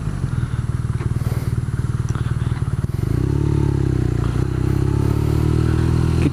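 A BMW R nineT motorcycle rolls around a supermarket car park in first gear, its engine giving a loud, close, steady low rumble with a pulsing beat that thickens slightly partway through.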